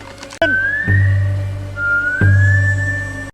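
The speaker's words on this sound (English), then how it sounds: "A sharp whistle cuts through the air." Two long, sharp rising whistles, one after another, each with a low droning hum beneath, ringing out loud and clear.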